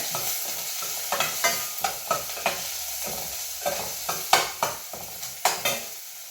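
Garlic and curry leaves sautéing in a pan for a coconut-chilli curry, with steady frying sizzle and repeated sharp scraping clacks of a spoon stirring, close and moderately loud, no voices.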